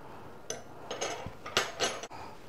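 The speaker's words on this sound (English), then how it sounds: "We'll put some butter" Butter knife scraping and tapping on a cut-open homemade biscuit, a few short clinks and scrapes close by, alone with no talk.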